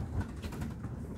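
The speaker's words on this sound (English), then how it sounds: "Pigeon." A pigeon coos inside an abandoned asylum building, a low muffled call within a steady, rumbling room noise, heard briefly with no one talking.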